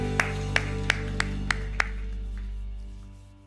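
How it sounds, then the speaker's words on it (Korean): Church congregation at a Sunday worship service claps in praise, giving six sharp, evenly spaced claps in unison over a steady low hum before the room falls quiet. "우리 주님께 영광과 감사의 박수 올려드리겠습니다"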